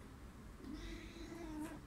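A cat meows once or twice, a drawn-out mid-pitched call rising and falling over a quiet indoor background, with no speech.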